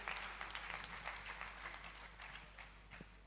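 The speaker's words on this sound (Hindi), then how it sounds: "जोरदार तालियों से" Hall audience at a community organization meeting claps to welcome the chairman, a faint, distant patter of scattered hand claps that gradually thins out over a low steady hum.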